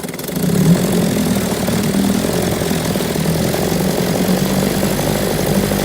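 A 1957 Evinrude 7.5 outboard motor idles with a steady, even drone that stays loud and close and does not change pace, running with no voices over it.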